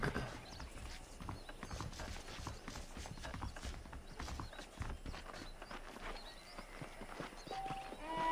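Horse hooves clip-clopping in the Western video game Red Dead Redemption, a quick irregular stream of hoof clops on hard ground along with light tack rattles, at moderate volume with no talk.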